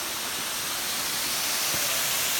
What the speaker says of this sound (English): there's all the water going down into a sinkhole